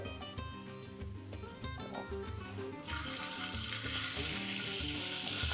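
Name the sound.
beef frying in a hot pan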